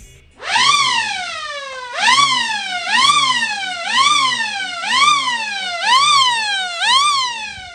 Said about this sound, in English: And the alarm should alternate with the lights. It should alternate with the lights, the siren.